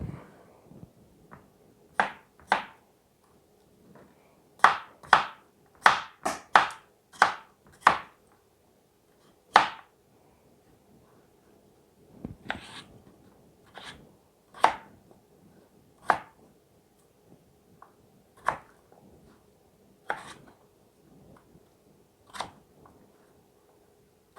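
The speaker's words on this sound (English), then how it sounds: "I'm going to go ahead and cut the rest of these potatoes up" Knife chopping potatoes on a cutting board, a series of sharp close thuds in irregular bursts, some rapid clusters and some single strikes with short pauses between them, no voices.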